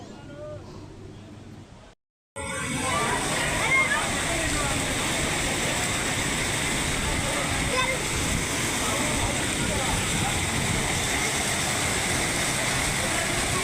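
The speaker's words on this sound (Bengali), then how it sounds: "শোনো ঝর্ণার আওয়াজ কত সুন্দর।" Kempty Falls near Mussoorie roars as a loud, steady rush of falling water after a brief quieter start and a short gap, with no break in the wash of noise.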